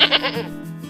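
Goats and sheep bleat in a village, with one close, wavering bleat fading into a lower, droning call.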